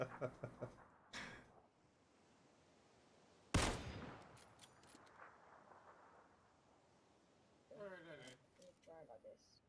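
Gunfire in a battle royale video game aimed at vehicle tires comes as a few sharp, loud shots and short bursts spaced out over the stretch, with a quieter rumble between them and brief speech.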